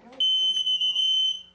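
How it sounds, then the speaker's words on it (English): A smoke detector's shrill, steady electronic beep sounds during a rental housing safety inspection, loud and continuous after a brief moment of faint background voices. "They also check for working smoke detectors."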